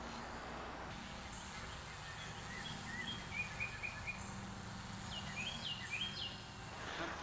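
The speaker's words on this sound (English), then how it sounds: "We can hear the birds singing" Small birds chirp and trill faintly at a distance outdoors, scattered high calls from about three seconds on over a steady low background hum of wind and distant traffic.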